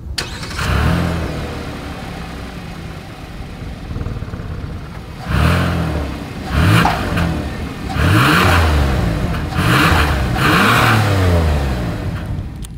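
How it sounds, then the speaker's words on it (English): Exhaust of a 2024 Hyundai Palisade SUV: the engine starts and settles to idle, then is revved several times in short, rising blips, loud and near, with no talking. "As always, here is that exhaust clip."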